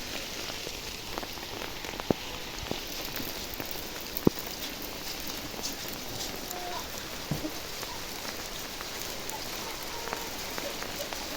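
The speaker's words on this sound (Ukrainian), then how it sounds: "Правда, розтає швидко, але град тарабанить." Hail drums on asphalt in mid-October, a dense steady patter with scattered sharper ticks of individual stones striking nearby, with no talk over it.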